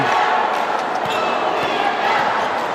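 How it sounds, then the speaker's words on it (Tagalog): Crowd at a Batangas MPBL professional basketball game shouting and chanting loudly during a free throw, a dense, steady roar of many voices filling the arena with no pauses. "Batangas crowd shouting, uwi na."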